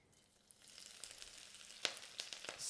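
Ginger and spring onion fry gently in a wok with five-spice over low heat, a soft steady sizzle broken by a few sharp crackles and spatula scrapes near the end.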